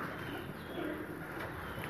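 Soft pigeon cooing outdoors on Mangla Road at Peer Bhachar, a low murmur running steadily for two seconds amid faint ambient noise with no talk.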